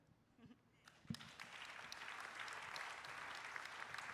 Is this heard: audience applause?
yes